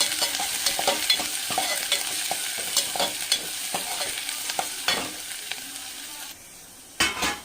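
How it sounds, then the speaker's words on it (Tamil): Onions sautéing with fennel seeds in hot oil in a frying pan for spicy mutton masala varuval, a steady sizzle broken by frequent scraping stirs of a spoon, close and continuous, with no voices. "போட்டு நல்லா வதக்கிக்கலாம்"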